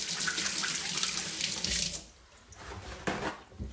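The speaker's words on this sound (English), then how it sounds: "gonna just rinse my hands." Hands are rinsed under a running kitchen sink tap, with a steady close gush of water that eases to a lighter trickle partway through, and no voices.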